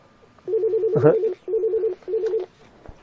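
An incoming call rings on a telephone in a French talk broadcast: three repeated warbling ring bursts, clear and alone, with a short burst of another sound overlapping the first ring.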